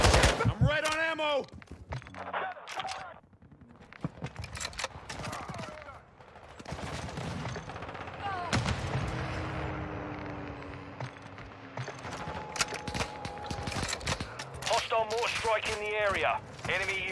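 Bursts of automatic gunfire and scattered shots in the PC game Call of Duty Modern Warfare 2, Invasion mission, mixed with radio chatter and voiced callouts, loud and close in places and sparse in others.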